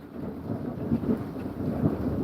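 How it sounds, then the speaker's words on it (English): Thunder rumbles low and continuous during light rain outdoors on a hike, a deep rolling murmur with soft rain patter, no voices over it. "Hear that thunder?"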